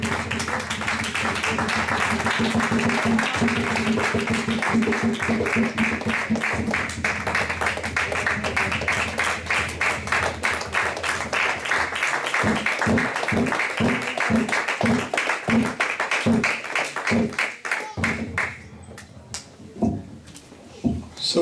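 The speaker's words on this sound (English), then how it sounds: "Can we give him a round of applause?" An audience at a Yom Kippur church service breaks into sustained applause, dense steady clapping that thins into distinct separate claps toward the end, with voices mixed underneath.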